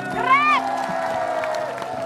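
Studio audience on a TV talk show cheering and applauding for a hip hop dance group, a brief whoop rising over dense clapping, with a host's voice talking over the crowd.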